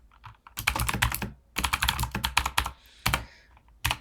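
Rapid clattering keystrokes on a computer keyboard while working in the vi editor, coming in dense bursts with short pauses and a few single taps, close and with no talk.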